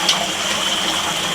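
Water from a garden fountain pieced together from discount iron parts, with two streams rising from a horned beetle figure, runs in a steady, close splashing rush with no one speaking.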